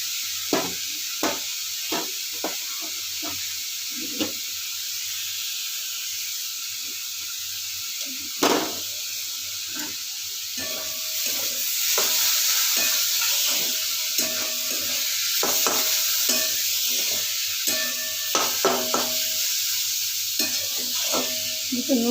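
Chopped ginger and green chili sizzling in hot oil in a pan, with a steady frying hiss and repeated scrapes and taps of a spatula stirring, the sizzle growing fuller midway.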